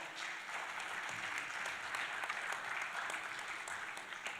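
Sustained applause from a conference audience for the speakers at a session on unconstitutional changes of government: a steady, even wash of many hands clapping, moderately distant and soft.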